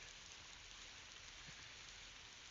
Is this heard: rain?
yes